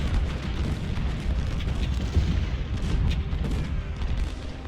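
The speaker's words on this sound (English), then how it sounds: "Chase their cannons away." Cannon artillery fire in the Civil War strategy game Ultimate General: Civil War, a dense, continuous rumble of distant booms and battle noise that stays loud throughout with no talk.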